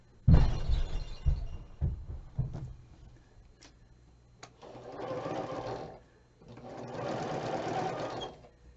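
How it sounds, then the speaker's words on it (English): A sewing machine stitches quilt blocks together in two steady runs of about a second and a half each, preceded by handling clatter and soft taps of fabric being positioned, with no talk over it. "Just sew these guys together."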